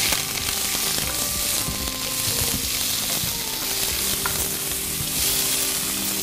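Onions stirred and fried in a pan for a spicy Tripoli-style fish dish, with a dense, even sizzle throughout and soft scraping from the stirring close by.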